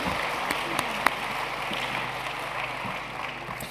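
An indoor audience gives steady, dense applause to welcome arriving guests, a continuous wash of clapping with a few sharper isolated claps standing out.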